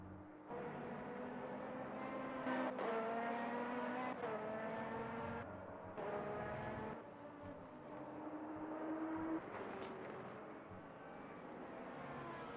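Race cars roar around a circuit in the Motor Mania racing game, engines rising and falling in pitch as several cars pass and shift gears, sustained and fairly loud throughout with no talk.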